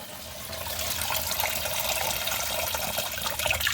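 Water drains steadily through an IKEA sink drain, a continuous close rushing and trickling flow that holds an even level throughout with no voices.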